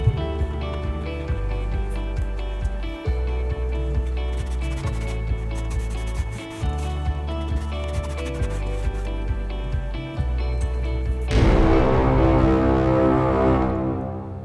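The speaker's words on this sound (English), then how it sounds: "For the air vents, I only use a brush and no foam." A brush scrubs a car's interior air vents in a rapid, continuous rubbing rhythm, close and fairly loud, with a harsher scraping burst toward the end; nobody speaks.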